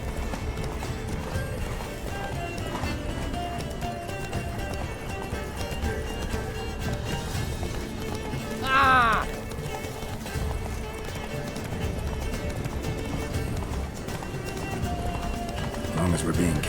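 Hoofbeats of the horse Roach galloping steadily in The Witcher 3, a continuous clip-clop under game music and wind, with a brief whinny near the middle and characters talking throughout.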